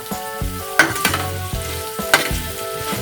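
Potatoes sizzle and fry in hot oil in a Bengali kitchen pan while a utensil stirs them, giving a steady close crackle broken by two sharp scraping clinks, with no voices.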